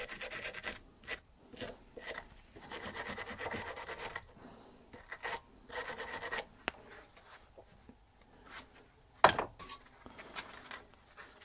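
Wire brush scrubbing rust and dust off front brake parts of a 2007 Mk 3 Ford Ranger 2.5, repeated rasping strokes in uneven bursts, close and moderately loud, with a sharp knock near the end.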